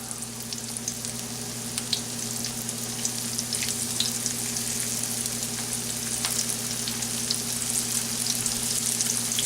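Pieces of chicken fry in a pan over a flame with a dense, continuous sizzle and crackle and scattered sharp pops of spitting oil, close and steady throughout, with a constant low hum behind it.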